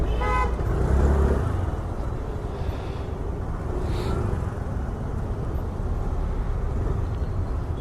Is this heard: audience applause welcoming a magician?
no